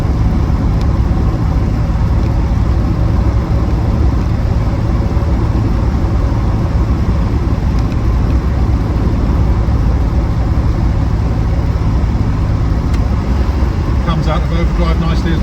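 The engine of a Reliant Scimitar GTE SE5a drones steadily in overdrive while the car is driven, a loud continuous hum with road noise and someone talking over it.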